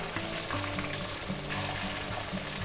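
Bologna slices fry on a hot griddle with a loud, continuous crackling sizzle close by, dense and unbroken.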